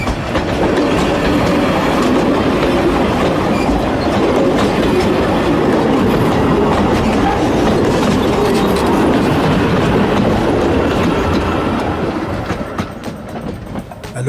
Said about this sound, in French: C'est un plaisir de voir circuler de longues rames, rendues possibles par le profil plat des 27 km de la ligne à voie métrique